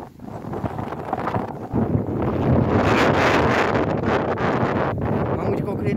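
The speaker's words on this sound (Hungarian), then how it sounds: "feltámadt a szél, úgyhogy a kamerát elrakom" Strong gusts buffet the microphone with loud, rumbling wind noise that surges and stays heavy, with a voice faintly beneath it.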